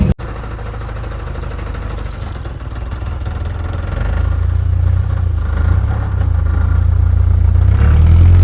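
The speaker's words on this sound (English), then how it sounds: "Oh, we got an exhaust rattle." A 1984 Plymouth Reliant wagon, back running after 22 years off the road, idles loudly and close with an exhaust rattle, its rough engine drone growing a little heavier partway through.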